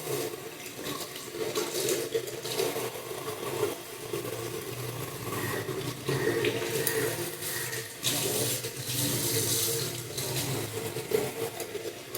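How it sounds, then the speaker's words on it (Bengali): Hands being washed under a running tap make a steady, fairly loud rush of water that runs unbroken for the whole stretch, with no voices. "আমি ভাবলাম হাতটা একটু ধুয়ে নিই"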